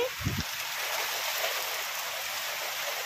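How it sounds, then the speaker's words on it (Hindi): Heavy rain pours down under strong wind, a loud, dense, steady hiss of water that runs unbroken throughout, with a brief low thump near the start. "केते जोरे वर्षा पवन आसिला"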